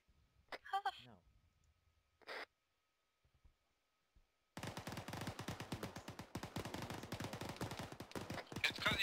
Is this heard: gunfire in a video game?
yes